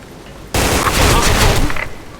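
Gunfire in the shooting game Special Force 2 bursts in abruptly after a quiet half-second: a loud, dense rattle of rapid shots that keeps going to the end, crackling and uneven.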